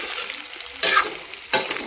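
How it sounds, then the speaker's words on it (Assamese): Potatoes fry in a pan for a duck curry with a steady soft sizzle, broken twice by louder bursts of hissing as they are stirred. "আলুখিনি খুব ভাজিব লাগে আচলতে 10 মিনিট"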